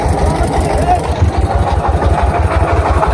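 A motorboat engine chugs in a steady, low, rapid rhythm while the boat cruises across a haor wetland on a fishing trip. It runs close and loud throughout, with voices mixed in.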